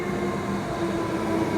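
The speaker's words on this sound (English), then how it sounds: "Wow, they're big trains." A long metro-style suburban train pulls into a station in an Australian city, a steady loud rumbling drone with a faint tonal hum and no talking.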